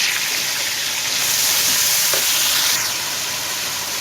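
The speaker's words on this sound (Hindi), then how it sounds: "अब इसके अंदर हम डालेंगे अदरक लहसुन का पेस्ट और इसको करेंगे अच्छी तरह मिक्स।" Ginger garlic paste fries with browned onions for a Lahori chicken karahi, a loud, steady close sizzle with soft stirring underneath and no speech.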